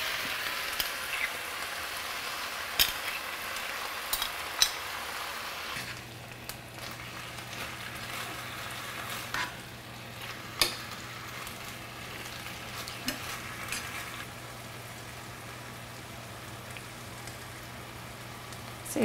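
Shrimp added to a hot frying pan, giving a dense crackling sizzle that stays steady and close, with occasional sharper pops and stirring clicks, under a low steady hum and no talking.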